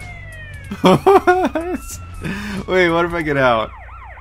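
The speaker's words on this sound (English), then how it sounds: "your sirens are like..." Police sirens from Grand Theft Auto San Andreas wail in rising and falling sweeps, loud and close, while a voice talks over them.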